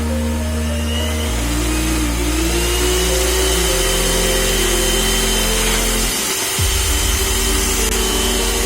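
An electric mixer beats orange cake batter at high speed with a steady, loud motor whir that shifts pitch a few times as the speed changes. No one speaks.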